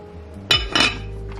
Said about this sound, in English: So I'll just cover the lid